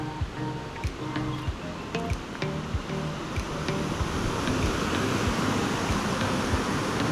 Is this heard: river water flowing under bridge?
yes